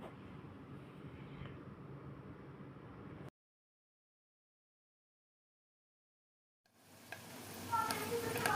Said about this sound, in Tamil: பார்த்தீங்களா, கருவேப்பிலை சேர்த்தோடனேயும் நல்லா கொதிக்கிட்டோம்.